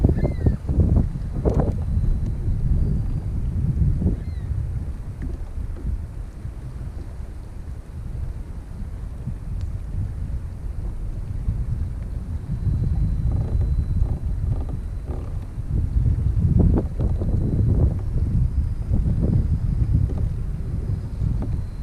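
Steady wind buffets across Lake Memphremagog in late June, a continuous low rumbling roar with gusts swelling and easing, loud and close, with no voices.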